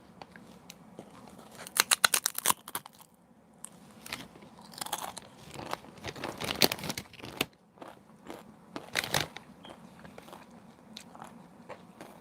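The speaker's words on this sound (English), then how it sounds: "Let me see if I could do a little ASMR crunch for you" Crunchy food, a snack served with tomatoes, red onion, jalapenos, hot pepper and cilantro, is bitten and chewed close to the mic in repeated crisp bursts, loud then softer, with no talking.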